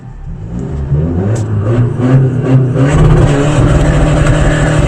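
A car with a remapped 1.9 DDI Blue Power diesel engine accelerates hard through the gears, the loud, close engine climbing and shifting steadily with no one talking.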